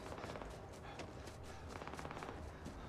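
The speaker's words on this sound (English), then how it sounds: "Someone's shooting." Rapid gunfire in the Space Heist video game, a dense run of sharp repeated shots at fairly even rhythm, somewhat faint and continuous.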